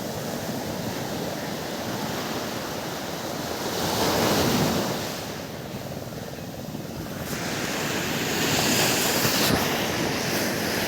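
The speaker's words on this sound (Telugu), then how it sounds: "అది చూడండి వాటర్ ఎలా ఎగురుతుందో ఒక్కొక్కటి." Sea waves on a beach in Pondicherry: a loud, continuous roar of surf that swells and recedes, with two bigger rushes and steady wind buffeting the microphone, no voices.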